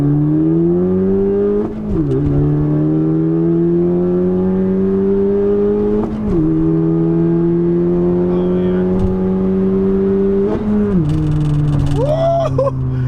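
A 10th-generation Honda Civic engine revs hard and climbs steadily in pitch in first gear, dipping briefly at each shift point before pulling again, loud and close.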